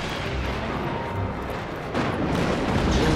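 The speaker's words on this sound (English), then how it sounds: "That looks like an explosion thing" Rumbling explosion blasts from the action video game Just Cause 3, a dense, loud, continuous roar of booms with a sharper surge partway through, no talking.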